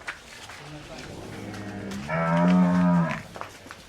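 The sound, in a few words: cow mooing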